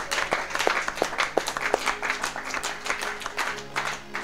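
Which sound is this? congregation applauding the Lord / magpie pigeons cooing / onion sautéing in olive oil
congregation applauding the Lord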